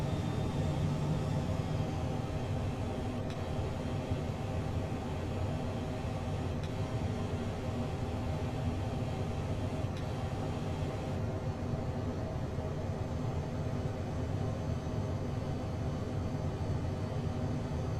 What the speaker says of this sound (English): Just letting the aircraft bleed off speed right now as we approach.